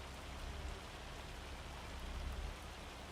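Steady rain falls in a farming video game, a soft even hiss of drops continuing throughout without speech.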